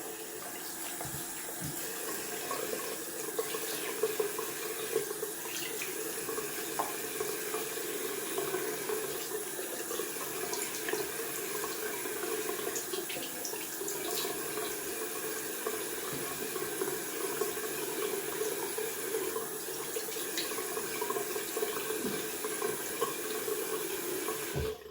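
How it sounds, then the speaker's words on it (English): Cold water runs steadily from a tap into a sink, a constant gushing splash that continues without pause. "Going down for a cold water rinse."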